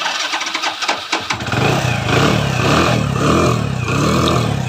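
A motorcycle engine freshly rebored fires up after a few rough initial turns, then settles into a loud, steady idle close by with slight fluctuations.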